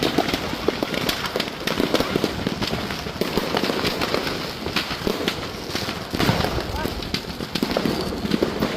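Fireworks and firecrackers go off at a burning firecracker stall in an open field, a continuous rapid crackle of pops and bangs, loud and dense throughout, with people shouting over it.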